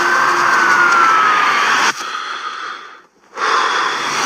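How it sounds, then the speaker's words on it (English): Spider-Man breathing heavily in the Brand New Day trailer, a close, hushed, breathy rasp that briefly cuts to near silence before resuming, with no music or effects around it. "the music and sound effects just like go away and we just hear his breathing"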